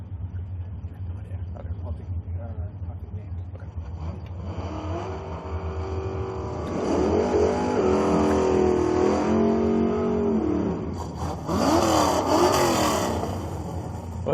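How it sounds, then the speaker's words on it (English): A big-block Plum Crazy Plymouth Cuda drag car at a drag racing event idles with a low rumble, then swells into a loud, sustained revving roar before a second sharp burst of throttle near the end. "Big block power under the hood of the Plum Crazy Cuda"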